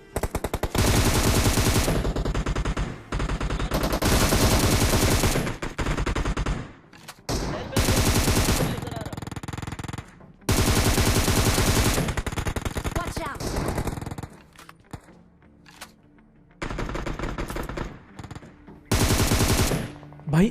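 Bursts of M762 automatic rifle fire in PUBG Mobile, loud sustained volleys lasting a second or two each, separated by short pauses, with one quieter stretch in the middle before firing resumes.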